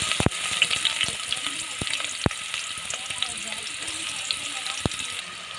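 Onions frying in two tablespoons of hot oil for a village-style small korameenu fish curry: a steady, close, bright sizzle with scattered crackles and a few sharp pops, no voices.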